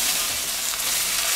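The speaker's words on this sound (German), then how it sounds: "Und jetzt machen wir den Tomatenmark und ein bisschen Paprikamark dazu. Tun alles schön scharf anbraten" Tomato paste and paprika paste fry hard in a pot for paprika goulash, a close, loud, continuous sizzle with no speech.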